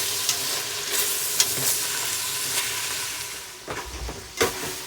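Ground lamb, about 20% fat, sizzles and fries steadily in a pan, a dense hiss with occasional sharper crackles and a few scraping stirs near the end.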